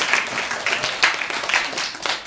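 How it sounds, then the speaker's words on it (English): An audience at a school event applauds, a dense mix of many hands clapping in irregular bursts that fill the room, fairly close and with no talk over it. "I want everybody to clap for themselves."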